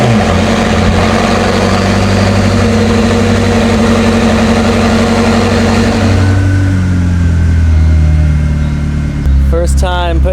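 McLaren engine running after an engine replacement, a loud, close, steady idle drone that drops in pitch near the end, with a voice talking over it.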